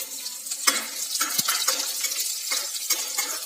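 Chili and ginger sauté in a pan with garlic, crackling steadily up close. Several sharp metallic clinks and scrapes from a utensil against the pan are scattered across the sizzle.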